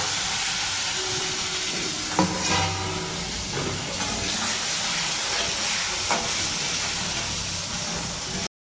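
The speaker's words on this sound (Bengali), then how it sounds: "আলুটা ভেজে নেব।" Potato pieces fry in a pan with a steady, bright sizzle and hiss that runs throughout, broken by a couple of brief clinks and stirring sounds, close and moderately loud.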